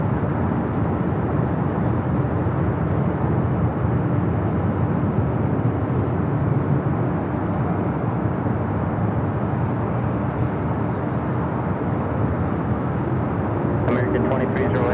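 An American Airlines Boeing 737-800 in Astrojet livery, bound for Raleigh-Durham, gives off a steady broadband jet roar at LAX for the whole stretch, with voices talking over it.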